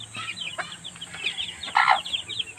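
Newly hatched chicks peep rapidly and high among chickens, a busy chorus of cheeps with a few louder clucks near the end, close and continuous.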